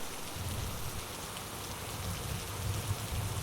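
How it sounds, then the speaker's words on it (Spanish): Steady, soft rain patters evenly for the whole stretch, a constant drizzle-like hiss with no voices, used as a sound effect in an animated illustrated story. "Ese día era frío y lloviznaba mucho."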